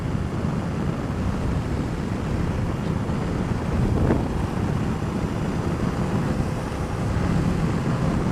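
Steady, loud wind buffeting rushes over the microphone while riding an Aprilia Caponord 1200 Rally motorcycle, a dense continuous roar with no talk.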